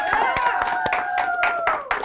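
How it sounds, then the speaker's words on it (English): A school audience claps for a group of students at a high school event, steady close applause with a few sharp claps standing out over a short stretch. "just clap one more time for them, please"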